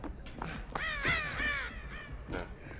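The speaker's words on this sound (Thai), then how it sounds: "กูล่ออีกาหมดทุกตัวแล้วเนี่ย" Several crows caw in quick succession in the video game Dead by Daylight, loud harsh calls overlapping and repeating, close and clear against a faint background.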